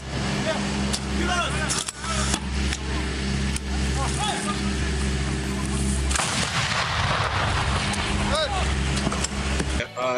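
Several heavy booming blasts from French TRF1 155 mm howitzers ring out over a constant engine rumble while a voice talks throughout.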